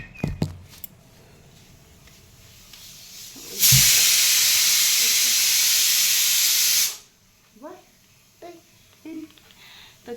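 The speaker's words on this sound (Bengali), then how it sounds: "ওই যে প্রেশারে সিটি দিচ্ছে" A pressure cooker on a home stove lets out one loud sustained steam whistle lasting a few seconds, bracketed by brief clatter and soft voices before and after.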